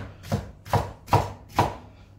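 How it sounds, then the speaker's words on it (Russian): Four steady knife strokes dice a homemade bell pepper into cubes on a cutting board. Each chop sounds as a sharp, close thud at a regular pace, with no voices. "Все кубиками, как хотите, вот нарезайте так же, как вам нравится."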